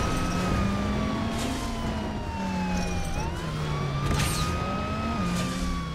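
Police car sirens wail in Transformers: The Game, several overlapping tones sweeping up and down continuously over a steady rumble of vehicle engine and road noise, loud and close throughout.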